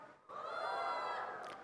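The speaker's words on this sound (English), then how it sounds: "20s and below, give me a cheer" An audience at a stand-up comedy show at Times Litfest Bengaluru 2020 cheers and whoops together: a loud, sustained burst of many voices that begins abruptly and holds steady for over a second.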